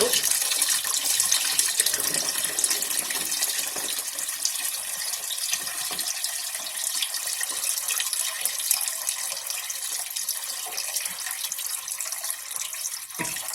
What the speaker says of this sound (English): so I'm going to add a little bit of water here